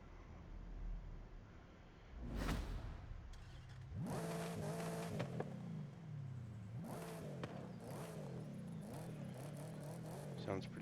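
A Hennessy Exorcist Camaro engine in Forza Horizon 5 revs up and settles into a loud idle, with rising and falling revs and some voices over it.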